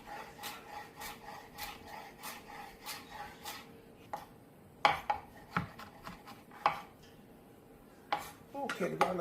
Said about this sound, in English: We're going to cut it diagonally.